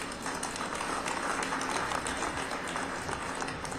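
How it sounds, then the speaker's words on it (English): A crowd gives flat, continuous clapping with an even, dull texture and no cheering, holding at one level throughout. "These people are clapping and they sound like they don't even want to clap."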